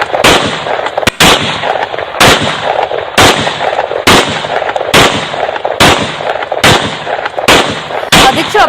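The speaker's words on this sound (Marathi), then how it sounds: "फटाके फोडल्यासारखे 30 राऊंड त्यानं फायर केलेले आहे" A pistol is fired repeatedly into the air, producing about ten loud, sharp cracks at roughly one-second intervals, each cutting through a noisy outdoor background with no talking.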